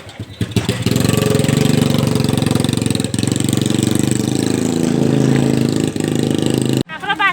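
An antique motorbike engine runs loud and close in a street, with a steady throbbing idle that continues almost throughout and cuts off near the end.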